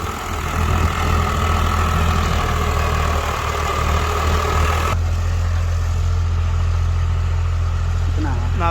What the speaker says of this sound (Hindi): ट्रैक्टर जो है ना आरपीएम खा रहा है, मुझे देखो आवाज़ समझ आ रही है इसकी